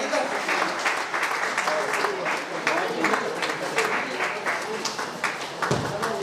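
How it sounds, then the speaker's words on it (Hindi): Loud, sustained applause from an audience at a lifetime achievement award ceremony honouring a retiring doctor, dense clapping running throughout the whole stretch at an even level. "एक बार जोरदार ताली से स्वागत करते हैं।"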